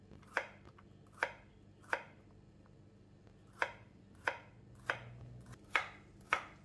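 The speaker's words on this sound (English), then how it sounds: "Now cut the bitter gourd into thin slices." A knife cuts bitter gourd into thin slices on a cutting board, nine crisp close chops coming one by one at a slightly uneven pace in an otherwise quiet kitchen.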